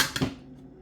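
Vegetable salad ingredients, including red pepper and apple, tossed in a bowl: a couple of quick clinks and knocks of utensil against the bowl, then a fading ring, fairly close and without talk.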